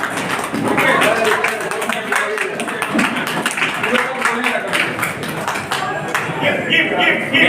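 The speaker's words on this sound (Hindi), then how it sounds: "जोरदार तालियां" At a grand farewell ceremony for loco pilots at Rampurhat, the audience claps in loud, rapid bursts while a person talks continuously over the applause.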